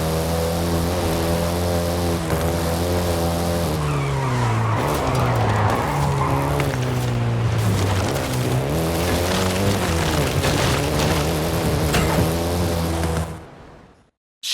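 Volkswagen Golf GTI in Forza Horizon 5, its engine droning loudly as tires squeal and skid through long slides, the pitch shifting with the drift before cutting off abruptly near the end.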